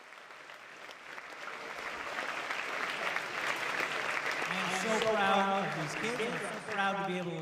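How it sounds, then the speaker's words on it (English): Audience applause at a high school Veterans Day ceremony, a sustained crowd clapping that swells and holds steady while a voice speaks over it toward the end. "let's give a huge round of applause for these kids and for these veterans"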